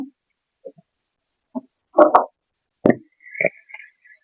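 Ground paste of garlic, onion, cumin and green chili, then turmeric powder, goes into a pan for a rui fish curry with pointed gourd, giving a few soft, isolated plops and taps close by in near silence.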